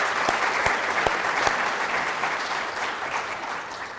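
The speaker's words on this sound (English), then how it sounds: "Let's have a round of applause for all of our evaluators." Steady applause from an audience at a social entrepreneurship competition fills the room, dense and even for about four seconds with a few sharp claps standing out near the start.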